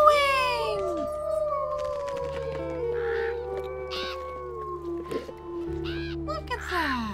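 Wolves howl in the WolfQuest video game, long wavering calls rising and falling over a steady low backdrop, with several overlapping voices at moderate distance and short bursts of other sounds between them.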